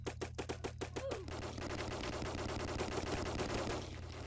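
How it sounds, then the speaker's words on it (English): A nail gun in a shooter video game fires a fast burst of sharp, evenly spaced shots, then keeps rattling in a dense rapid stream over a low steady hum. "No one can stop the nail gun."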